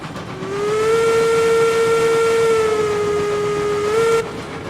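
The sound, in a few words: steam locomotive whistle from a video game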